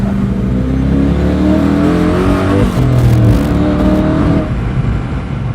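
A twin-supercharged 4.8-litre twin-cam car engine pulling in second gear, a loud steady drone with rising harmonic whine under a constant road rumble, heard from inside the cabin.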